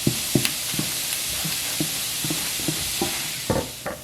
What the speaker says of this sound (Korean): 팬에 오일을 두르고 썰어놓은 양파를 넣으세요